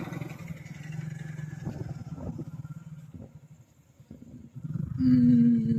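A motorcycle rides into the parking area of Nandyal railway station with a low, steady engine drone that dips briefly and then returns louder near the end. A rising tonal whine appears as it pulls in.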